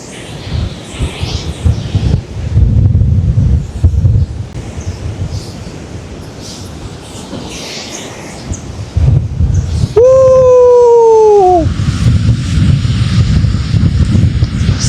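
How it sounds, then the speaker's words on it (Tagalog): Gusty wind in a garden near the port terminal in Atimonan, Quezon, buffets the microphone in loud, rumbling bursts, briefly broken by a short falling whistle-like tone before the blustering returns. "Mahangin."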